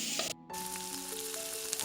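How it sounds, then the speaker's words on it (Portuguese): Garlic sautés in a pan as the first step of making rice, giving a steady close sizzle and crackle. Faint tonal hums run underneath, and the sound drops out briefly near the start. "E aqui estou refogando o alho para fazer o arroz."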